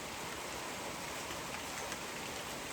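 Rain falls steadily over an organic farm, a dense, even wash of drops close by that continues without a break and without voices.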